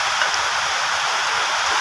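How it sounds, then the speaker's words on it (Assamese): Steady rain falls outside a home kitchen, a continuous close hiss of drops with no pauses or voices. "এয়া চাওক কিমান বৰষুণ দি আছে।"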